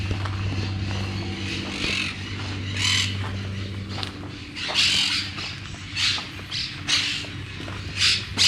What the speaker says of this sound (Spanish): Los pájaros están haciendo mucho ruido acá.